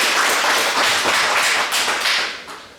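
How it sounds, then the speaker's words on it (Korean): A church congregation applauds at an Easter service in a dense, sustained burst of clapping that gradually fades toward the end. "우리 감사의 박수, 영광의 박수 올려드리겠습니다."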